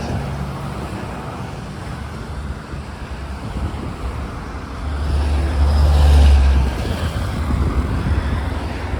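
Road traffic with trucks passing close by on a highway between palm plantations, a steady rushing roar that swells into a loud, low rumbling pass-by mid-clip before easing off.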